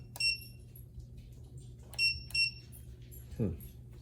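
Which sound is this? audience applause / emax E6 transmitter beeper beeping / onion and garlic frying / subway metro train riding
emax E6 transmitter beeper beeping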